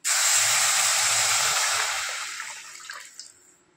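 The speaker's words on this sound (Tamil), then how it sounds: "வறுத்துட்டு கரைச்சி வச்ச புளி தக்காளி எல்லாம் சேர்த்துக்கலாம்." Tamarind water and tomatoes poured into a hot pan for pepper rasam, a loud close burst of hissing sizzle at the start that steadily fades to a softer bubbling over a few seconds, with no voices.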